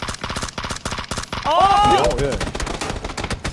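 Rapid gunfire and return fire in a PUBG esports match, sharp repeated shots in a fast rhythm, with a brief higher ringing sweep in the middle and a caster's voice talking over it.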